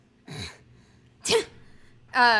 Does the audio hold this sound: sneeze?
yes